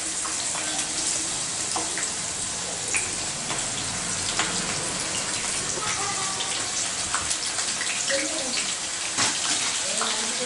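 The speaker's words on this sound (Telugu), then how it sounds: "ఆయిల్ వేడి చేసి ఆయిల్ వేడైన తర్వాత ఇప్పుడు కట్ చేసుకున్న దొండకాయ ముక్కలు అన్నిటినీ దాంట్లో వేసేసుకోవాలి" Pieces of cut ivy gourd hiss and crackle in hot oil, a steady dense sizzle with scattered pops, close and continuous throughout.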